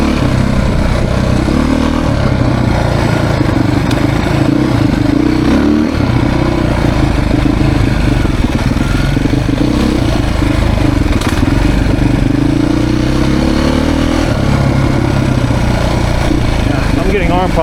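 Beta dirt bike engine, a 2024 enduro model on a trail ride, revving and engine braking loudly and continuously close by, with steady mechanical clatter throughout.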